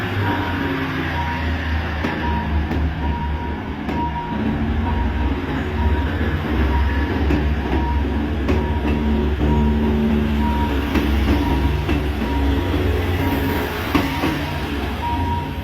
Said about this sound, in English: the local commuter train is already pulling up at the crossing